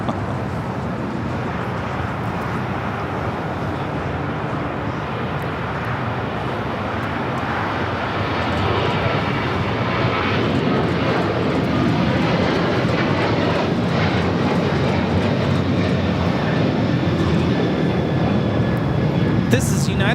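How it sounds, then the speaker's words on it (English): A United Airlines Boeing 737-800 in Star Alliance livery takes off from LAX bound for Denver, its loud broadband engine roar building steadily and holding strong throughout, with faint wind noise. "This is United Airlines 1897 taking off to Denver on the 737-800"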